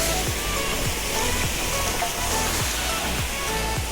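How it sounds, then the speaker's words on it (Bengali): A waterfall at the end of the Napitchar trail near Saint Martin roars in a loud, steady, close-up rush of falling water that stays constant throughout, with no voices. "এই হচ্ছে নাপিতচর ট্রেলের সর্বশেষ ঝর্ণা।"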